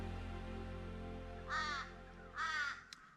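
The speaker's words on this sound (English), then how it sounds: "I thought those crows would be back, and sure enough, he's sitting up in the tree there." A crow perched up in a tree at a woodland camp gives two harsh caws about a second apart, clear over a low steady background hum.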